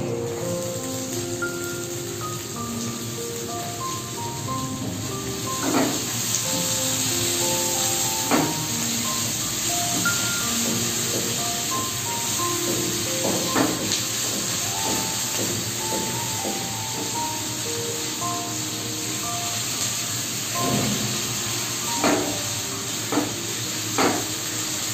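Diced potatoes tumble into a pan of fried onions for spicy savoury semolina, raising a steady, loud sizzling hiss with scattered clinks of a spatula or utensil against the pan throughout.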